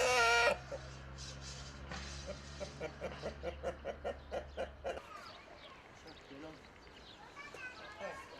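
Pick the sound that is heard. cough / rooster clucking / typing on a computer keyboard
rooster clucking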